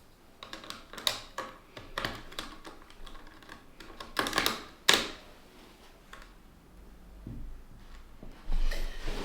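Plastic keycaps pressed back onto a computer keyboard after cleaning, giving a scattered run of sharp clicks and snaps close to the mic, some quick bursts and some isolated, with brief pauses and no talking.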